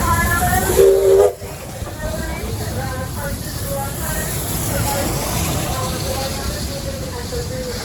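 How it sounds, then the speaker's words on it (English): Snow train of R711 and R761 railcars pulling into a station platform, a sharp whistle blast near the start followed by a steady hiss and rumble of the arriving train. "here is the footage of the train pulling into the station after about an hour of waiting"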